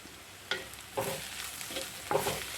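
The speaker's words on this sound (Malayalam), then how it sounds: "ഇനി കാൽ ടീസ്പൂൺ മഞ്ഞൾപ്പൊടിയും കൂടെ ചേർത്തതിന് ശേഷം നമുക്ക് പൊടികളെല്ലാം നന്നായിട്ടൊന്ന് വഴറ്റിയെടുക്കാം" Coriander and turmeric powder sautéed in a pan over medium flame: three or four distinct spatula scrapes and stirs over a low sizzle, close and fairly quiet.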